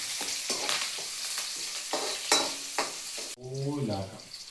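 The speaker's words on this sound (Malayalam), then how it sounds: "ഇഞ്ചി പച്ചമുളക് ഇട്ട് കൊടുക്കാം. ഓക്കെ, അതിൻ്റെ കൂടെ രണ്ട് കറിവേപ്പില" Ginger, green chillies and curry leaves fry in a pan with a sharp, scraping stir, then burst into a loud, close sizzle as fresh ingredients hit the hot oil.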